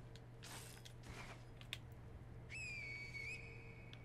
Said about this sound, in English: Oh yeah, I didn't even test out the new, the finger whistle.